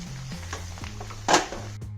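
Jackfruit pieces frying in hot oil give a soft, steady sizzle with a louder crackling burst near the end, alongside faint low hum and a few light utensil taps.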